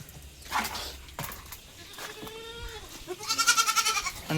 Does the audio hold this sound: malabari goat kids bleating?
yes